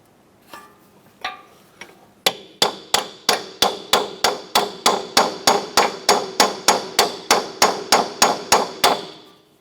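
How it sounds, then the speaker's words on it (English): Hammer blows strike a chisel wedged under the lip of a clevis fork to drive the strut out on a 2004-2008 Acura TL. A few lighter taps come first, then about sixteen sharp, evenly spaced metallic hits ringing close and loud. "we're going to now use our hammer, and we're just going to go ahead and strike the clevis fork and pop that down"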